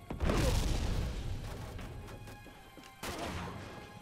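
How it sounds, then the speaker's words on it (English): A grenade explodes in the PS4 game Uncharted 2: Among Thieves, a loud, close boom with a long rumbling, crackling tail, followed by a second sharp blast near the end. "A nice big explosion."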